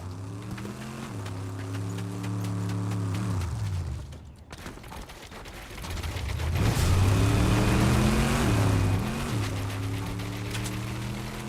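A car approaches in a video game, its engine droning steadily and then dropping in pitch before a brief lull, followed by a louder, rising rev that climbs and wavers as it draws near.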